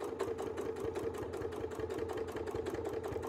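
A sewing machine quilting microfills with silk thread runs in a fast steady mechanical patter, close and moderately loud throughout, with no voice present.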